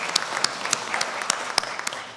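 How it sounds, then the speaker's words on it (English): Church audience applauding at a Sunday Easter-season service after a performance, a brisk crackle of many hands with a few sharper near claps standing out, steady and moderately loud. "give yourselves a big round of applause for that"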